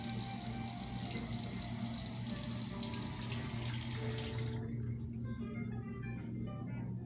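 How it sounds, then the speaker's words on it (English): Water gushing from a faucet in an old house, a loud steady hiss of running water that suddenly drops to a quieter trickle partway through, with people talking faintly underneath. "That faucet just turned on by itself."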